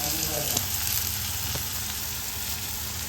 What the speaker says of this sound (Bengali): এবার আমি একটু লঙ্কা কুচিয়ে দিচ্ছি এর মধ্যে